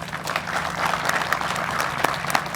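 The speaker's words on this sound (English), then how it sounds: "Please, one last applause for all of our recipients tonight." Closing round of applause from the audience at a police and fire department awards ceremony: a broad, even wash of many hands clapping, steady and moderately loud throughout, with no speech on top.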